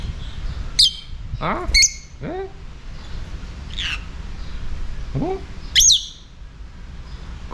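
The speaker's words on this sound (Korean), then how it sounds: "앵무새 아닌가?" A caged parrot in Thailand gives a few sharp, close squawks and chirps, spaced a second or more apart, over a low steady background hum.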